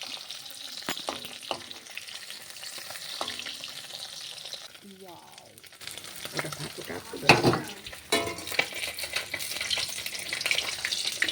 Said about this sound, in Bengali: এই মাছটা কিন্তু একটু কড়া করে ভাজা হবে